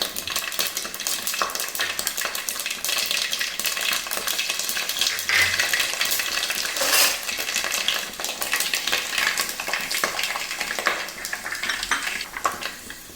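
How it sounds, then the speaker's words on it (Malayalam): Mustard and fenugreek seeds crackling in hot sesame oil in a pan for lemon pickle, a dense, steady close sizzle with rapid popping and occasional light clinks of a utensil. "എണ്ണ ചൂടായിട്ടുണ്ട് അതിലേക്ക് കടുക് ചേർത്ത് കൊടുക്കാം നമുക്കതിലേക്ക് ഉലുവായും കൂടെ ചേർത്ത് കൊടുക്കാം"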